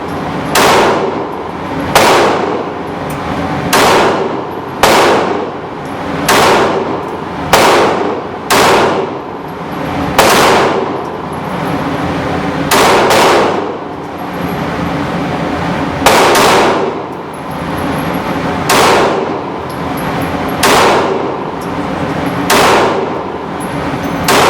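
Taurus PT111 G2 9mm pistol fired repeatedly at an outdoor range, about fifteen sharp, loud reports in an irregular rhythm, some in quick pairs and others spaced a few seconds apart, with no talk.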